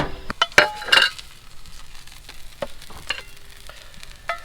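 Eggs fry in a well-seasoned cast iron skillet with a soft sizzle, broken by a few sharp metallic clinks and scrapes of utensils against the pan near the start, then quieter sizzling with occasional light taps.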